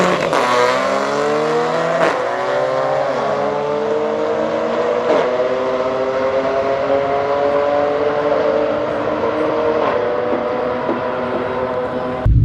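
An Audi B8 S4, stripped of its seats, accelerates hard on a drag strip run. The engine roars loud and close, climbing in pitch through several gears with short dips at each shift, and shows slight breakup near the top of third and fourth gear.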